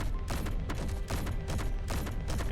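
Small grid autocannon in the Space Engineers video game firing a rapid, sustained burst of heavy repeating shots with a steady rhythmic pounding, loud and close, with no talking over it.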